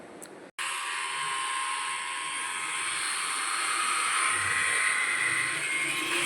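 An iBELL idiyappam maker's motor runs in reverse after repair, giving a steady, close whirring drone with a high whine. It starts abruptly after a brief quiet moment and keeps going at an even level.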